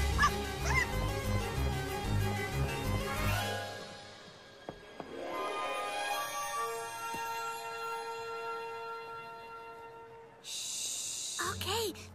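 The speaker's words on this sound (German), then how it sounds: "Da ist das Hündchen." A small cartoon dog from a German Polly Pocket animation yips and whimpers in a string of high, bouncy barks over a music score, with brief sound effects and speech nearby.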